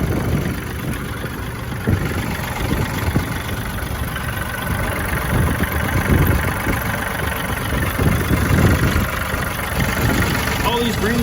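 A green Yanmar tractor engine idling steadily outdoors during evening mowing, a constant close mechanical rumble with a faint knocking texture, no talk over it.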